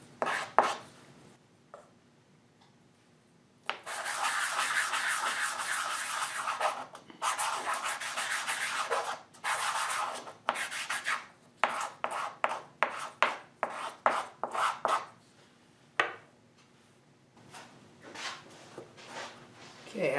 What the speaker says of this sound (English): Just a quick sanding to get rid of those fuzzies.